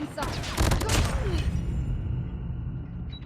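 Video game gunfire during a clan match: a dense burst of shots and impacts in the first second or so, then a sustained rumbling battle din with layered voices talking over it.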